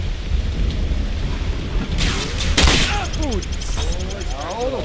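Steady rain hisses in a Call of Duty match set in Rio, with a sharp crack and rumble of thunder partway through. Other short in-game sounds rise and fall over the constant downpour.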